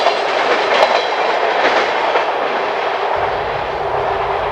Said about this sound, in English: I guess that's the subway, the transit trains.